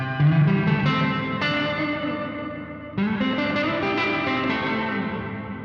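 An Eno reverb pedal on its room setting colours a distorted electric guitar, two strummed chords each ringing out and decaying into a washy ambient tail.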